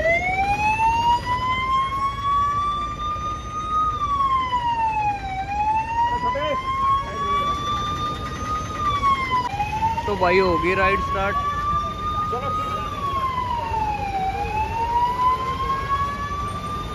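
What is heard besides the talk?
ambulance siren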